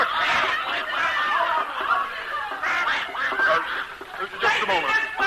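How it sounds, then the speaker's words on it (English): A duck quacks repeatedly amid a noisy scramble of people shouting and chasing it, the calls close and loud under overlapping voices. "Somebody get that duck!"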